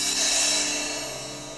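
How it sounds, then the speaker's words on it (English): Loud cymbal struck hard in a dead, echo-free anechoic room, a bright sustained shimmer that rings on and fades slowly without any room reverberation. "Let's get the loudest cymbal sound that you can possibly do"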